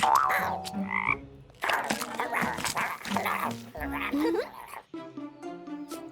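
Frog croaks pop up between bursts of lively music and cartoonish effects, with a voice speaking at times.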